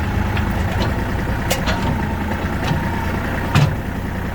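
A Kubota GL23 mini tractor with a front loader runs its engine at a steady idle, a continuous low rumble close by with a few brief clicks and knocks over it.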